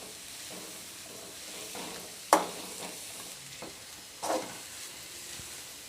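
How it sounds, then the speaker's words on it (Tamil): Carrot, beans and cabbage frying in oil in a pan, a soft steady sizzle with a few sharp stirring clatters from a spoon, quiet and close. "இப்போ இது எல்லாத்தையுமே இந்த எண்ணெயில் போட்டு ஃப்ரை பண்ணிக்கலாம்."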